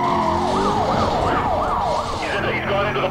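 Police siren in the racing game Need for Speed Most Wanted, a loud wailing tone sweeping up and down over steady engine roar, with the pitch shifting near the end.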